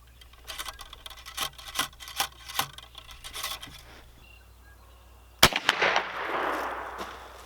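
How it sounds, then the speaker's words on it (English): Rifle shots from a completed Crockett rifle kit fired at a 50-yard target at an outdoor range, one sharp close report followed by a rustling, echoing tail, with earlier light clicks and handling noises. "This time we're gonna take shots at the 50-yard target up there."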